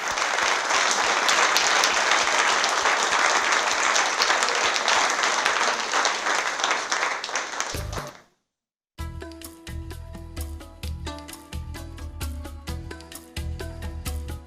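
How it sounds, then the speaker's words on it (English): An audience claps warmly at the end of a talk by Thai activist Sulak Sivaraksa on unrest in Southeast Asia: dense, sustained applause for about eight seconds, fading out abruptly, followed by music. "another round of applause for Ajahn"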